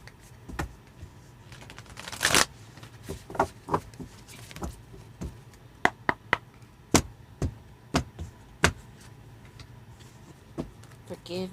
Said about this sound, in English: so I'm just gonna shuffle it a few times.